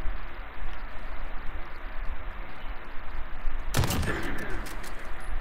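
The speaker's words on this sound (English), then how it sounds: "Rocket launcher." Call of Duty Modern Warfare gunfire rattles under a steady noisy bed for several seconds, then a rocket launcher blast and explosion burst in loudly near the end.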